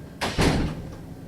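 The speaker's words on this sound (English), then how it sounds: "I'm going to shut the door." An indoor door is pushed shut in a lecture room, a brief double thud of the swing and latch heard close and moderately loud, followed by quiet room tone.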